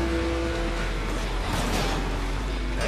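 A car engine in the Need for Speed Most Wanted video game drones and accelerates with a steady, loud tone that rises slightly in pitch over a few seconds.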